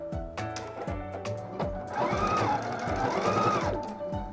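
A sewing machine stitches over folded quilt binding, its motor humming with a rapid mechanical needle rhythm that speeds into a steadier whir, close and clear.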